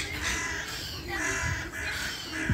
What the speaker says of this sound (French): On est en plein nourrissage et donc les mouettes rieuses en profitent.